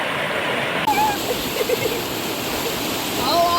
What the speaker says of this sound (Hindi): यहाँ देखिए इस तरह से झरना बह रहा है